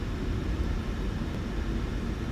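Jet engines of a PMDG 737-800 in Microsoft Flight Simulator 2020 at takeoff thrust, a steady, dense, loud roar with deep rumble and no pauses.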